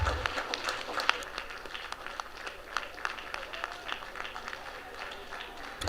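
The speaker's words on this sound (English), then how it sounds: "And we give a huge round of applause for all of the staff who stayed with us tonight" Sustained applause from an audience of staff and attendees at an evening school board meeting, steady dense clapping at moderate level throughout with scattered sharper claps and crowd noise.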